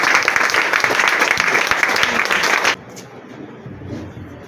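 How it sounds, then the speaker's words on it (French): A church congregation applauds loudly and steadily for nearly three seconds at a charismatic worship gathering, then the clapping cuts off and leaves quiet room noise. "Acclame."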